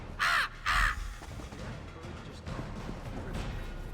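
Two loud, harsh crow caws in quick succession in the Elder Scrolls Online game world, followed by low ambient rumble and rustling.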